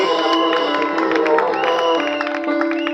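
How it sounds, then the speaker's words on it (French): Church congregation at a French-language Sunday service cheers and applauds together, a loud crowd roar with clapping and whoops mixed with voices and sustained tones. "Acclamons pour le Seigneur Jésus."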